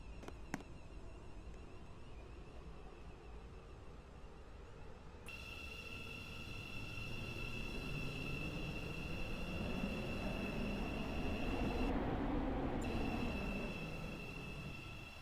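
Five-coach train at Stepford East station in the Roblox game SCR, a steady rolling rumble of wheels on track that swells louder midway, with sustained high tonal whines and squeals layered over it, no voices.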